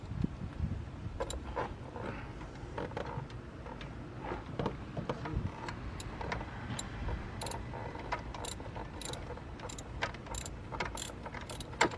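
A ratchet wrench clicks in repeated bursts of sharp ticks while a Yukon 1500 pulley tensioner is replaced, faint and close over a low background rumble.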